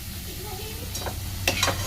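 Sitabhog-style sweets sizzle briefly in hot oil, a steady hiss with a few sharper crackles and spoon scrapes near the end.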